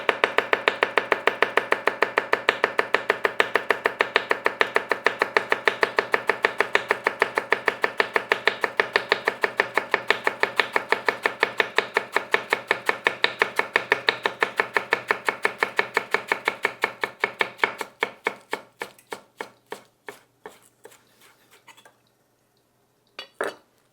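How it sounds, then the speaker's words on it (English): A knife finely shredding iceberg lettuce on a cutting board in fast, even, rapid-fire strokes that continue steadily and then slow into spaced-out final cuts; close and crisp, with no voices. "we're gonna take a little bit of iceberg and then just really finely shred it"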